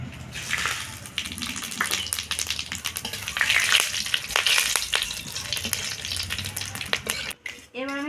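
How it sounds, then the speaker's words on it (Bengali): Whole dried red chilies, bay leaves, cumin seeds and whole garam masala are frying in hot oil, giving a steady, close, dense crackle and sputter with occasional stirring scrapes throughout. "ফোড়ন দেবো আমি গোটা শুকনো লঙ্কা তেজপাতা গোটা জিরে আর গোটা গরম মশলা"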